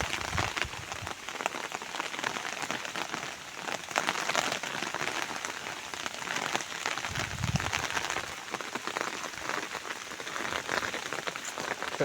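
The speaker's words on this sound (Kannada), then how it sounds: "ಮಳೆ ಜೋರು ಮಳೆ ಸ್ಟಾರ್ಟ್ ಆಯಿತು ನೋಡಿ." Heavy rain pours onto a ginger field, a dense, steady patter of drops hitting surfaces and foliage all around, sustained and fairly loud for the whole stretch.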